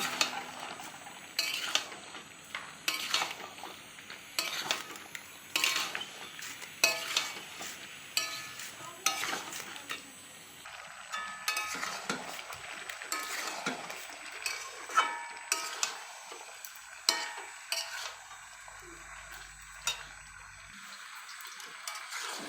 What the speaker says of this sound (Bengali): অল্প জলটা দেওয়ার পরে মশলাটা কষায় নিই